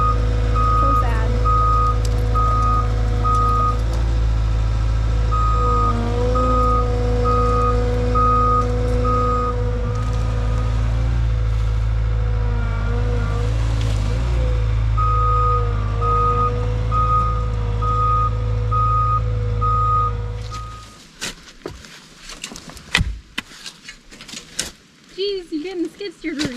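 Skid steer sounds steady, evenly spaced reversing beeps over a low diesel engine rumble for about twenty seconds, with a pause in the middle, before the machine noise stops.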